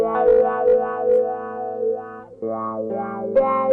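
An electric guitar plays sustained, wavering notes through a multi-effects preset with compressor, equalizer, noise suppressor, chorus and reverb, the lines shimmering and swirling with no talking over them.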